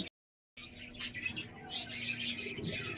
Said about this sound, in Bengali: এবার আমি আমার পায়রার ঘরে ঢুকবো, দেখবো পায়রার বাচ্চাগুলো সব কেমন আছে